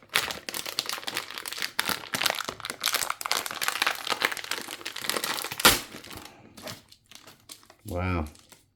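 Loud crinkling and crackling of plastic packaging on an HFX 70 hang-on aquarium filter being torn and pulled open up close, ending with a short burst of speech.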